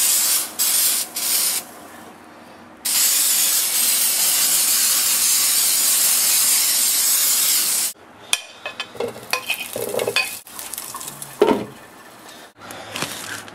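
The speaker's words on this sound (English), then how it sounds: "Spray that out in the pan." Coconut cooking spray hisses into a pan in a few short bursts and then one long continuous spray, followed by clattering and faint sizzling.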